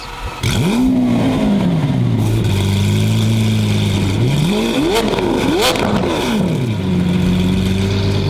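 Lamborghini engine with equal-length catless downpipes revs hard and close, its loud rasping tone rising and falling through several sharp blips before settling to a steady idle.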